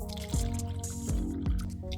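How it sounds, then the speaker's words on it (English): Leftover coffee trickles and splashes as it is poured into a cup, a short close-up liquid sound made of a few distinct gulping drips with no talking. "I'm going to go ahead and pour it into this cup"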